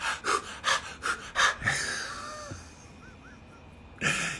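Heavy, rhythmic breaths sound close during an ice bath: a run of about eight forceful inhales and exhales, a quiet stretch, then another hard breath at the end.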